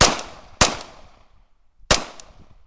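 Cobray M11 firing Winchester 115 grain full metal jacket rounds: three sharp, loud gunshots, the first two close together and a third after a pause of over a second, each ringing off briefly.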